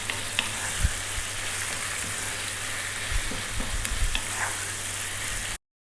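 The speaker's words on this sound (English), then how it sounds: "All we've got to do is stir fry this around, and it's done." Seasoned liver stir frying in a pan gives a steady, close sizzle and crackle with occasional stirring scrapes and pops. The sizzle runs evenly for several seconds, then cuts off abruptly.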